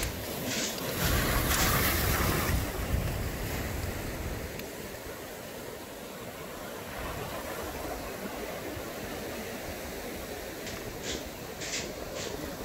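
Steady wash of ocean surf rolling in the distance, with wind noise and a louder surge of water early on.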